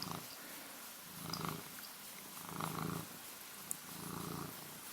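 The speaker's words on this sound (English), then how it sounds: "Do you guys hear the purring?" A cat purrs softly up close in a steady rhythm, each low rumbling breath swelling and fading about once a second.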